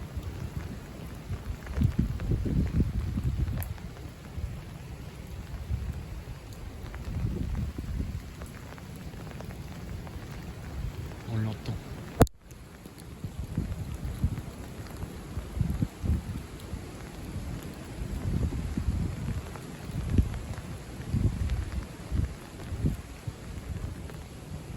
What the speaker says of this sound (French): Par moment, il y a des grosses rafales, c'est le vent qui souffle vers le cœur dépressionnaire.